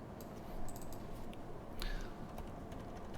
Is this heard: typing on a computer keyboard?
yes